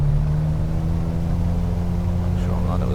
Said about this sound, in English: Listen to those engines. 250 horsepower.